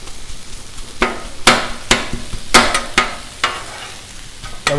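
Utensil scrapes and taps stirring chicken on a hot Blackstone griddle, sharp irregular clacks over a steady sizzle, close and fairly loud.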